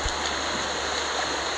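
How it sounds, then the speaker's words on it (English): The River Nidd in Nidderdale rushes over rocks at a cold-water swimming spot, a steady, close, broadband hiss of flowing water that holds an even level throughout, with no voices. "In the beautiful River Nidd."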